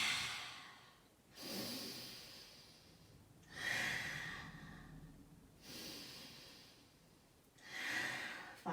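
Slow, deep breaths during a core yoga flow, each long inhale and exhale rising and falling in a steady rhythm of about four cycles, close and fairly soft, with no words spoken.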